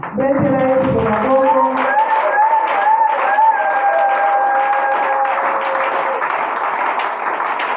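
A congregation at a spiritual retreat applauds and acclaims the Lord. Loud, dense clapping carries on steadily throughout, mixed with raised voices and sustained sung or shouted tones, especially early on.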